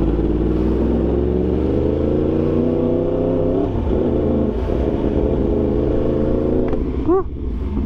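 Yamaha R1 60th anniversary WGP edition superbike rumbling and revving close by, with a steady, loud engine drone that rises and falls in pitch and a brief sharp rev toward the end.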